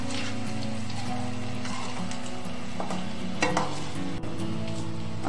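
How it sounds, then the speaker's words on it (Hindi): Spinach koftas fry in oil in a pan over a low gas flame, sizzling continuously and loudly up close, with the clatter of occasional stirring and a few sharp clinks of a utensil. "सिम गैस पर ही फ्राई करने हैं।"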